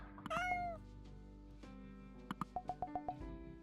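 A cat meows close by, with one drawn-out meow followed by a quick run of short chirping meows, fairly quiet with a faint steady hum underneath and no talking.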